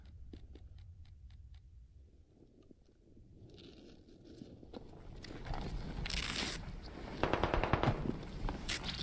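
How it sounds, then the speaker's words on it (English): Gunfire in a squad-based shooter game, scattered distant shots at first, then louder bursts of rapid fire building toward the end. "So where are those shots from?"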